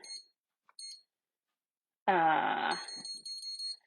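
A kitchen timer gives high electronic beeps, two short bursts, then a run of rapid repeated beeps after a brief spoken word from a nearby voice.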